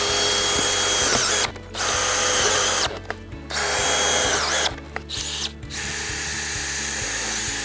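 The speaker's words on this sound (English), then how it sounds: "We're going to use our cordless drill to screw the piles." A cordless drill drives screws through the pre-punched holes in the base of a Gallagher Mega Anchor ground anchor. It makes loud, close whirring bursts separated by brief pauses, with the pitch dropping as each screw seats.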